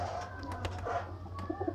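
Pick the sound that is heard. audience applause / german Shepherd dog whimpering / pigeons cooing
pigeons cooing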